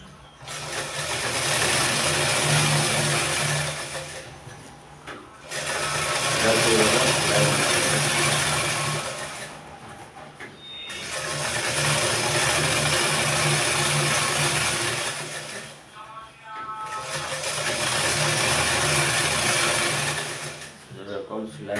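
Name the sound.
sewing machine stitching elastic on a baby plazo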